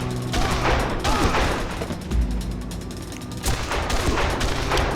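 Sniper gunfire in the video game Made Man rattles through a battle at a gate, a steady stream of sharp shots and bursts filling the scene with little talk.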